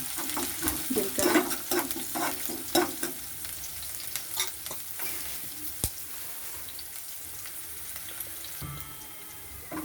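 Onion and cumin frying in oil for rajma curry, a soft crackling sizzle with scattered stirring clicks and faint clatter, fairly quiet and without talk.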